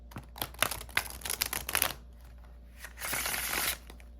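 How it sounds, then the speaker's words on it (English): Crisp riffling of cardstock playing cards being shuffled, a rapid flurry of snapping clicks followed by a brief, smooth cascading bridge sound, close up. "Let me show you, or let you hear, how beautifully these shuffle."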